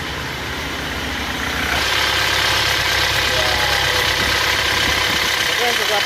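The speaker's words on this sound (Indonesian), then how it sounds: "Suara mesinnya juga kurang halus ini lur ya." A rough-running pickup engine idles close by with an uneven, knocking rumble that grows louder partway through, steady to the end.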